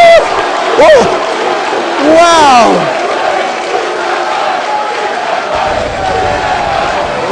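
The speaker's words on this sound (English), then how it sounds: "The crowd is going nuts." A packed crowd roars and cheers at the EVO 2012 King of Fighters XIII grand final, a steady loud wash of noise with a commentator's excited exclamations over it.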